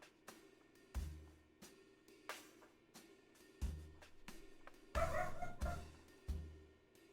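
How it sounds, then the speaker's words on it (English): A dog in a video game barks sharply and loudly over and over in an uneven rhythm, each bark close and punchy against a quiet background. "That dog sounded like it was in our house."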